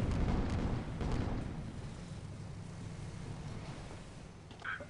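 Ship cannons fire and explosions go off in a video game, opening with a loud burst of booming blasts that fade into a rumbling tail, with a faint pop near the end.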